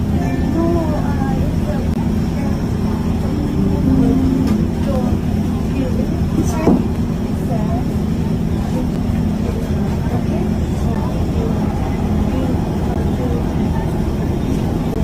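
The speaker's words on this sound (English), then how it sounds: "I'm on a bus in Tokyo." Steady low rumble of a city bus interior in Tokyo, engine and road noise droning throughout, with voices talking over it and a brief sharper knock midway.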